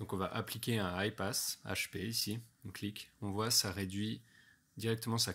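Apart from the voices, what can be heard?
No distinct noise like a dog, phone or traffic.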